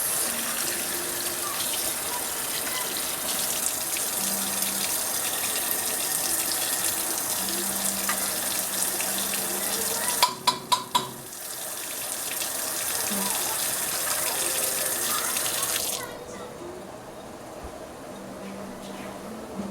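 Water runs steadily into a kitchen sink and drains while a tuna casserole is made, a loud continuous rush with a brief clatter midway before the flow eases off, and people talk over it.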